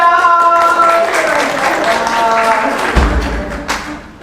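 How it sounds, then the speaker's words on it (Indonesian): Audience clapping at a Majelis Taklim Az-Zahra religious gathering, moderate and scattered, mixed with sustained music tones and some voices. "Tepuk tangan dong"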